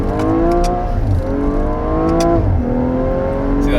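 A tuned 390 whp BMW M135i sleeper accelerates hard, its engine note climbing steadily through the revs before a brief dip at a gear change and another strong rising pull, loud and close.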